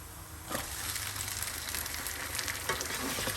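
Chicken for biryani frying in a hot kadhai, a dense, steady sizzle with oily crackle, loud and close, broken by a couple of stirring scrapes.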